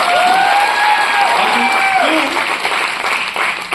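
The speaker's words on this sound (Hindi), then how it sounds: "हम सभी नेटवर्कर्स के लिए भी एक जोरदार ताली होनी चाहिए।" Audience applause at an award function: loud, dense clapping from a large crowd, sustained throughout with a faint whistle-like tone on top.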